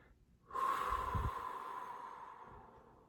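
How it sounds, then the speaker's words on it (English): A single sharp inhale through the nose as part of a controlled breathing exercise, loud and close, followed by a long steady airy exhale, with no talking. "1 second through the nose,"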